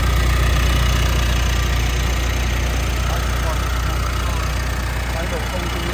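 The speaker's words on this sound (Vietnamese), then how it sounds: "Đây là cái tiếng động cơ đang hoạt động nhá" A 2021 Mitsubishi Triton diesel pickup engine idles close by with a steady low rumble and faint ticking, unchanging and smooth throughout.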